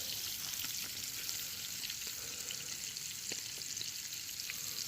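A ribeye steak fries outdoors at a truck campsite, giving a steady, fairly quiet sizzle with a hiss that holds constant and a few faint pops, with no talking.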